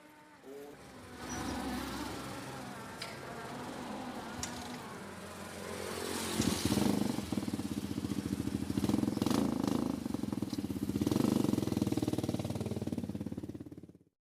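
An old motorcycle engine idling and then revving up nearby, growing louder and rougher toward the end, with people talking over it.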